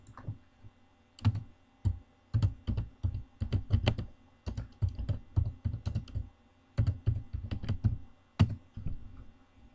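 Typing on a computer keyboard while coding a database program in Microsoft Visual Studio 2010: steady runs of close, crisp key clicks in uneven bursts with short pauses, no voices.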